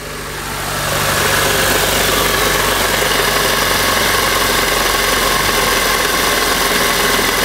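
A car engine running steadily, recorded up close near the clutch in a repair shop, rising to a loud, even hum with a dense mechanical rattle that holds throughout.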